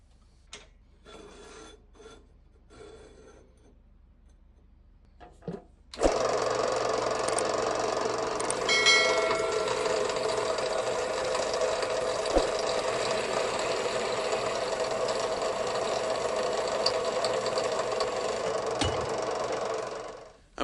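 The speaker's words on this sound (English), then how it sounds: "I'm cutting it at an angle just to offset the hitch" Rusty steel square tube is cut at an angle for a lawn tractor ball hitch. Faint scraping comes first, then a loud, steady rasping cut runs for about fourteen seconds before stopping sharply.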